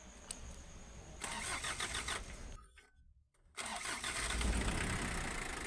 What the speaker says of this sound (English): the engine didn't even really take that long to start